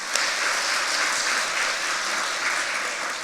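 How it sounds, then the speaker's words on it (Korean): Brief, steady applause from a church congregation during a recognition ceremony, even and continuous across a large room. "1년 동안 성실하게 성경 문제를 제출하신 성도님께 격려의 박수를 부탁드립니다."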